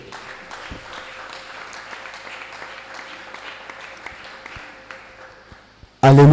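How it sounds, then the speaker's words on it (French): A church congregation claps steadily for the Lord, a sustained, moderately loud patter of many hands filling the room before a sudden loud burst at the end. "Acclamons très fort pour le Seigneur."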